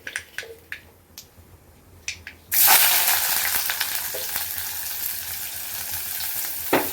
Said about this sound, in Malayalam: കടുകെട്ട് പൊട്ടിക്കൊണ്ടിരിക്കുകയാണ് അതിനകത്ത് ഞാൻ സവോള അരിഞ്ഞതും കറിവേപ്പിലയും പിന്നെ രണ്ട് വറ്റൽ മുളകും